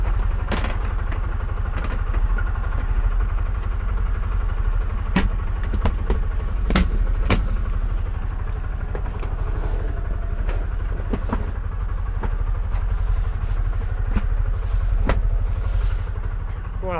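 A 2019 Cub Cadet Challenger MX 550 utility vehicle drives along with a steady low engine rumble and drone throughout. Scattered clicks and rattles sit over the engine, which is loud and close.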